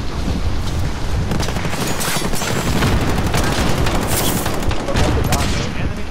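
Gunfire from a Desert Eagle pistol in a Modern Warfare match is buried in a dense, continuous battlefield roar of rapid shots and booms that runs at a steady level from start to finish.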